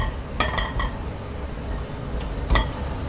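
Broken cashews fry in ghee in a pan for semiya payasam, a close, steady sizzle marked by a few sharp scraping stirs of a spoon against the pan; no voices.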